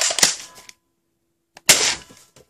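Two sharp shots from a JT Splatmaster Z100 toy gel blaster fired through a chronograph, each a loud crack with a brief hissing tail, separated by about a second of silence.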